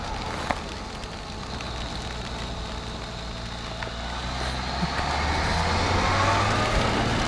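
A Kawasaki Z H2 motorcycle accelerates through the gears on a wet mountain pass in the rain, its engine note a low steady drone that swells slightly toward the end over constant road and rain hiss.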